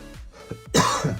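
A single person coughs and clears their throat, two short rough bursts followed by a louder, breathier cough close to the microphone.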